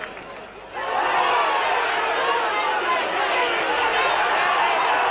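A crowd at a rugby league match between Wakefield and Bradford swells into a loud, sustained roar of cheering and crowd noise after a quiet start, then holds at full volume.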